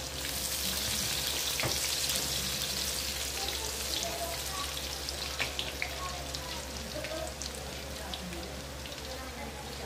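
Onion goes into sizzling oil where garlic has already browned, for papaya escabeche with fish. The hiss is steady and moderately loud and slowly eases, over a constant low electrical hum.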